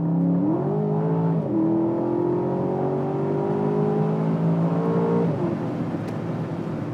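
Aston Martin DBX SUV engine revving close and loud, its note rising in steps as the throttle is blipped and held, then dropping back near the end, with a steady low rumble throughout and no talk.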